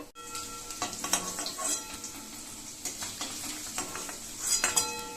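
Paneer cubes sizzle in hot oil in a pan while a utensil stirs and scrapes, producing steady frying hiss with intermittent clinks and scrapes, close and moderately loud.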